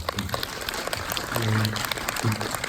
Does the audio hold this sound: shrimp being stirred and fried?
no